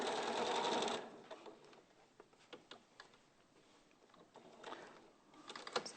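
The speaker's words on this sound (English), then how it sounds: "So you're just stitching the top of it down so that doesn't gather up?" A sewing machine stitches down a seam allowance, a loud continuous run at first, then scattered ticks and short bursts of stitching.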